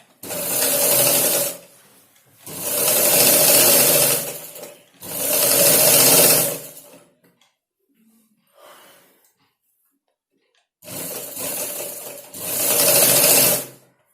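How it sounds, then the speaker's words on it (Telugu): Sewing machine stitching along the edge of a blouse lining, close and loud, running in several bursts of one to two seconds separated by pauses, with faint handling noise between runs. "ఇట్లాగా మళ్ళీ అంచంలో కుట్టేసేసుకోండి."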